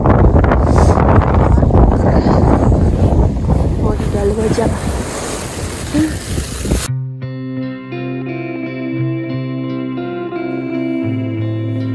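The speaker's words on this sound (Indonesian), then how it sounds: "Terus ya cerah sih, tapi angin." Wind gusting across an exposed mountain summit trail on Java, a loud continuous rushing roar with buffeting on the microphone, cutting abruptly to a quieter tonal passage.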